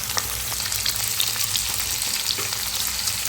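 Tamarind and mint mixture frying in oil, a dense, even crackling sizzle with faint occasional stirring scrapes, close and fairly loud, with no one talking.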